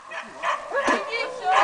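A dog barks in a few short, sharp bursts spread across the moment, mixed in with people talking nearby.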